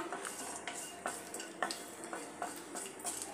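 Whole cloves, cinnamon stick and cardamom fry in oil in a pan with a quiet sizzle, while a utensil scrapes and taps against the pan in a steady rhythm, faint and close.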